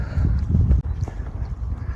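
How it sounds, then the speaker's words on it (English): Steady wind on a country road in Leicestershire, UK, roaring and buffeting against the microphone, low and continuous with a brief dip partway through. "It is, you can probably hear, quite windy."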